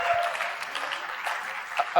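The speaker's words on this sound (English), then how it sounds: "Let's give him a round of applause" Audience applause for a chiropractor at an event for new chiropractors, a brisk, even patter of many hands clapping with a few louder claps near the end.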